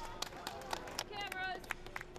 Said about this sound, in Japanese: 沿道の人たちは大きな拍手でランナーたちを盛り立てます